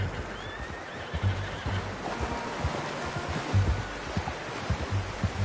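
A horse whinnies and its hooves clop in Red Dead Redemption 2, the neigh rising over a steady run of hoof beats with soft rustling behind, fairly close and moderately loud.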